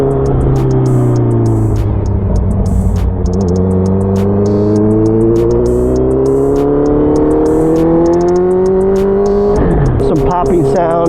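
A Honda CBR650F motorcycle engine revs loudly and up close, rising and falling through a steady whine, with pops and crackles on the overrun near the end.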